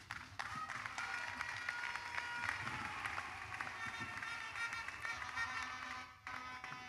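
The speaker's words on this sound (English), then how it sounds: "Applaudissons pour le Seigneur." Church congregation clapping in applause, a dense steady patter of many hands filling the room at moderate loudness, continuing with a short dip near the end.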